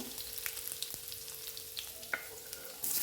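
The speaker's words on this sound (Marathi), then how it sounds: "लसूण आपल्याला छान तेलावर परतून घ्यायचं आहे" Garlic sautéing in oil in a pan after cumin, a quiet, close sizzle with a few light spoon taps and crackles.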